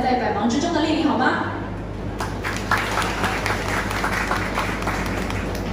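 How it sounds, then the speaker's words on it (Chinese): An audience at a Michelin tyre dealer event in Taiwan, attended by officials, bursts into sustained applause: dense, steady clapping from many hands that follows a host's amplified speech and carries on to the end. "再次的掌声来感谢我们所有与会长官们在百忙之中的莅临"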